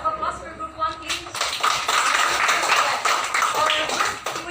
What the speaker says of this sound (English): a round of applause for group 1, please